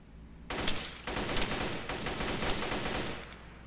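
Gunfire from the woods in Arma 3: rapid bursts of shots crackle in quick strings, fairly loud and sharp, each burst rattling for a second or more, with a brief gap between bursts.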